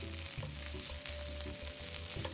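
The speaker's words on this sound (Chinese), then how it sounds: "炉全程保持中火，一直拌炒至食材溢出淡淡香气" Bamboo shoot and other ingredients stir-fry in a wok over medium heat for sweet potato dumplings, a soft continuous sizzle with rhythmic scraping of the spatula, quiet and close and with no talking.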